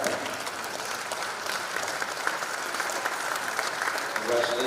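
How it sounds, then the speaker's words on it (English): A standing audience applauds at a government ministerial launch event, dense continuous clapping filling the hall, fairly loud and even throughout. "Ladies and gentlemen, please stand and applaud."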